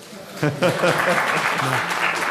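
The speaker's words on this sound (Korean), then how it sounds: "박수 한번 나와야 되는 거 아니에요?" Applause breaks out at a Korean president-elect's press conference before reporters, a burst of clapping rising after a brief spoken moment and continuing under a voice that talks over it.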